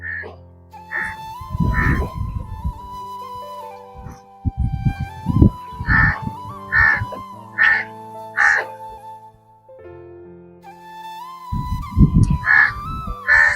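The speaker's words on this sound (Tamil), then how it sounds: "அந்த பறவை இங்கதான் வருது." A bird at Chembarambakkam lake gives repeated clear, loud calls in short clusters, with people talking nearby between and under the calls.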